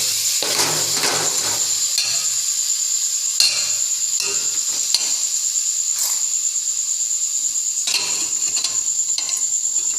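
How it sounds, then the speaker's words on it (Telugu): Chicken pieces stirred in a hot pan for a Hyderabadi chicken curry, giving a steady, close sizzling hiss broken by short scraping stirs. "చికెన్ వేసి బాగా మిక్స్ చేసుకోవాలి"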